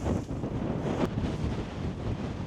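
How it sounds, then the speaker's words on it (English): Wind blowing on the south coast of England, a steady rough buffeting roar across a microphone, loud and continuous with no voices. "It's a bit windy."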